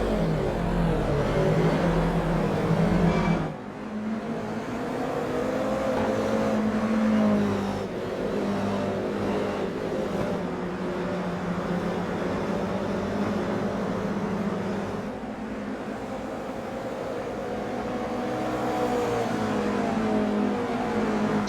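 Several race cars roar around a circuit during a club race, engines revving and rising and falling as they pass and overtake one another, loud and continuous with no talking.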